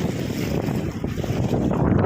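Strong sea waves surge and crash near a sea cave, a loud, roaring rush of water mixed with buffeting wind noise against the microphone.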